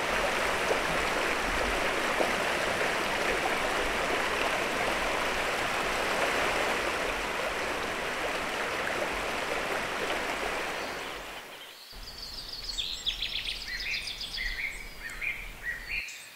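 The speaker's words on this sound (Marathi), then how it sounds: "खालून असा मस्त पाण्याचा प्रवाह वाहतोय आणि त्याचा आवाज ऐकणं ना पाण्याचा मला खूप आवडतं" Water from a stream runs steadily beneath a small footbridge in a forest village, a close, continuous rushing wash that fades out near the end, leaving quieter ambience with birds chirping.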